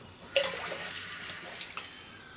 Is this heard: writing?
no